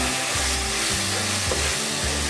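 Roasted semolina sautéing in a pan, a steady dense sizzle throughout with faint scraping from stirring, close and fairly loud, no voices.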